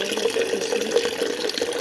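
Water runs steadily into a container, a continuous splashing pour with faint dripping, close and moderately loud.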